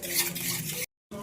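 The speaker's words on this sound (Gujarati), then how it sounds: "મિક્સ કરી લઈશું." Crushed sugar-free sweetener is mixed into a kalakand mixture in a pan, a brief close scraping stir with a soft hiss before a sudden gap and quick resumption.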